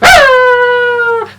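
A voice imitates a dog, giving one loud, sustained howl-like bark that starts sharply, holds a steady pitch for about a second and then drops away.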